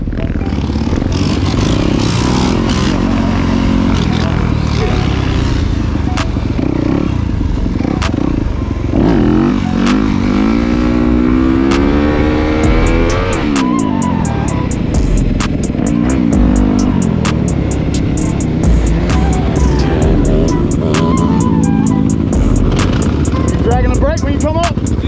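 A 72V Sur Ron electric bike and a YZ 250FX dirt bike rev loudly on a stunt lot, with a two-stroke-style engine rising and falling through sustained throttle blips alongside whining motor noise, voices occasionally heard over the din.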